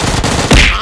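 Rapid automatic gunfire in a mobile shooting game plays as a loud, close, continuous rattle that lasts under a second and swells into a heavier blast near the end.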